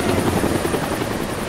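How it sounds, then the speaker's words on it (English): In the video game Deadlight, a helicopter thunders close and loud with continuous rotor chop as it chases characters, filling the short moment with no voices. "That's the helicopter chasing my friends."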